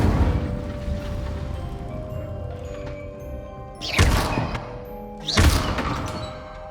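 Incendio fire spell cast in Hogwarts Legacy: two sharp whooshing bursts with low thumps a second and a half apart, over a steady ambient game background.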